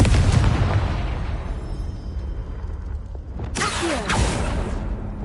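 A fire-blast spell explodes in the Hogwarts Legacy video game, landing as one loud broadband burst with a whooshing tail late in the moment, over a constant rumbling game ambience.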